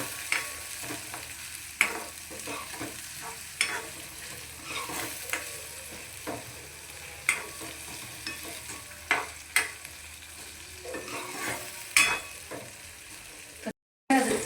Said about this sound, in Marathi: हे टमाटे पूर्ण स्मॅश होईपर्यंत त्याला हलवायचं।